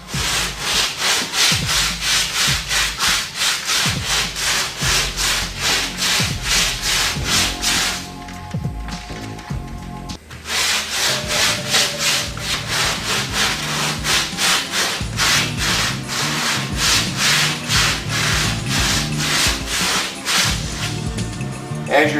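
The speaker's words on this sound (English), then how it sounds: "But as you're using this sander, always use it, any hand sander like this, use it vertical." A hand sander works over car body filler in rhythmic back-and-forth rasping strokes, loud and close, with a brief pause midway before the repeated scraping strokes resume; a voice speaks intermittently.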